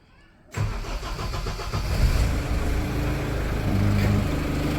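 A Tata Safari Dicor diesel, its battery gone flat for days, fires up on a jump start. After a moment of quiet the engine catches abruptly, then settles into a steady, close idle.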